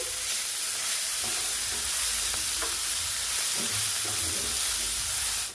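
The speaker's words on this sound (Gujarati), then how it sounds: "અત્યારે ગેસની ફ્લેમ એકદમ ધીમી રાખેલી છે અને ધીમા ગેસ પર આને આપણે એકદમ સરસ એવું કૂક કરી લેશું" A fenugreek snack mixture cooks over a low gas flame, giving a steady, close hiss of frying with occasional faint stirring clicks for several seconds.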